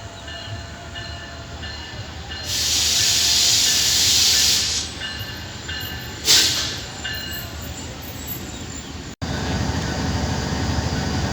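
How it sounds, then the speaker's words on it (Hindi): GEU20 diesel locomotive shunting at Gujranwala station, a steady diesel rumble with loud bursts of air hiss and a short sharp blast partway through, then a continued heavy idle. "GU20 की शंटिंग बेल की आवाज़"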